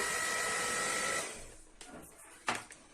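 An electric hand mixer beats date cake batter with a steady, close motor whir that stops abruptly partway through, followed by a few light knocks and clatters against the bowl.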